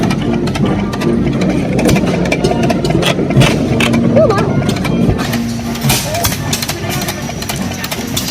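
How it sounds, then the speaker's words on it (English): Small gas engines running steadily at the Camp Creek Threshers show, a continuous mid-pitched mechanical chugging with clattering parts, fairly close and loud, with no pause across the stretch. "they're featuring small gas engines"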